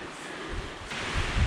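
Gusty wind on a cold, icy day blows across a microphone while riding a mountain bike, a steady broadband rush that swells and grows louder toward the end, with low rumbling buffets.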